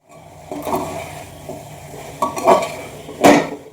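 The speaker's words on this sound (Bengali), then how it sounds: "আর এই অবস্থাতে আমি এখন শাকটা দিয়ে দিচ্ছি, আর শাকটা দিয়ে একটু ভালোভাবে নাড়াচাড়া করে নেব।" Leafy greens being stirred into cooked vegetables in a pan, with a few scraping, clattering stirs of a utensil against the pan over a low background, loudest near the end; no talk.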